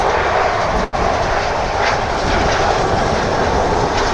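An American Airlines plane departs Dallas Fort Worth Airport bound for Mexico City, its steady broadband jet roar loud and continuous, with a brief dropout near the start.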